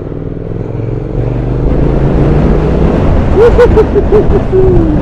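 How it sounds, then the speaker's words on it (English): Twin-cylinder exhaust of a 2023 Triumph Speed Twin motorcycle, a steady low rumble throughout that swells as the bike accelerates, fairly close and loud with no talking. "the exhaust it's like Rambo firing the whole time"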